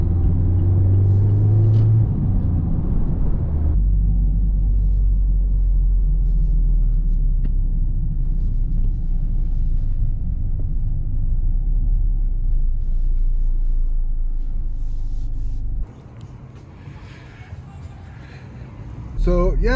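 A sports car engine rumbles low and steady on a test drive, deep and close, with a brief drop in level near the end and no clear revving.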